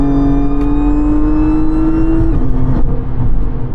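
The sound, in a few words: supercharged car accelerating hard on the highway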